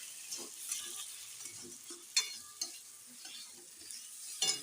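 A rohu fish head being fried and stirred in a pan for fish kalia. Quiet, close sizzling runs throughout, with a few sharper scrapes and clinks of the utensil.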